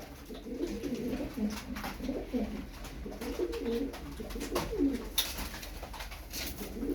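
Soft, repeated cooing of several pigeons close by, overlapping throaty calls over a faint background hiss.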